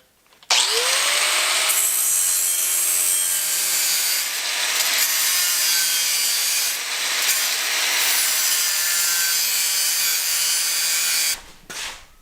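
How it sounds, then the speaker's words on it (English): An angle grinder smooths the sealing flange of an eBay turbo for an LS-swapped Mustang, spinning up with a rising whine into a loud, steady grinding rasp that holds for several seconds before cutting off. "I'm going to use the grinder for a bit"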